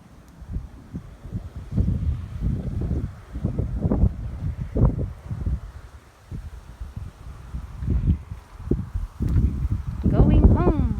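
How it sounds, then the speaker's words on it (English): Strong wind blows outdoors among flowers, buffeting the microphone in continuous low rumbling gusts that rise and fall, with a voice speaking briefly near the end. "It's too windy."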